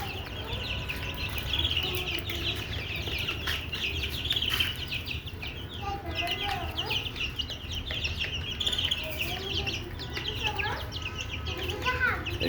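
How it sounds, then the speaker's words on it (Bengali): Eighteen-day-old Sonali chicken chicks kept on a rooftop peep and cluck in a steady busy chatter, with faint other sounds and possible voices in the background. "এগুলো আপাতত পরীক্ষামূলক সোনালী মুরগির বাচ্চা"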